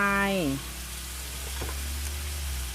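Pork stir-fried with oyster sauce in a wok at a Thai made-to-order food stall, a steady close sizzle with light stirring running throughout, a brief voice at the very start.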